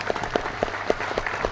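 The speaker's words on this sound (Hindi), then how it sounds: "एक बार जोरदार ताली सर के," Applause from an audience at a seminar in Ahmedabad, a brief burst of scattered, fairly close hand claps in an indoor hall.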